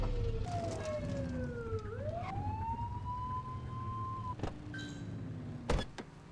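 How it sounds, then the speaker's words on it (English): Police car siren blips in the video game The Precinct: a rising electronic wail sweeps up and holds steady for a couple of seconds, then a second brief whoop follows, over a constant low engine rumble and street ambience. "Get behind them and blip the siren and make them pull over."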